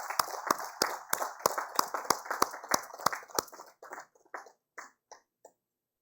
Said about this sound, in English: A big round of applause for CDD India for their intervention in rural areas.